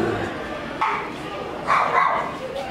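Large dogs bark and yip in a petting area at a dog theme park, short barks rising over nearby people talking and other crowd noise.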